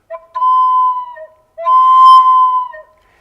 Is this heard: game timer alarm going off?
no